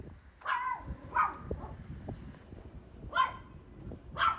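Several dogs bark in short separate bursts at a dog cafe in Seoul, roughly four barks spread across the moment, moderately close over a low background murmur.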